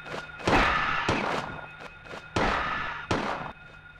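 Gunshots from a handgun in Silent Hill, fired in three separate loud bursts spaced about a second apart, each with a sharp onset and a long decaying tail.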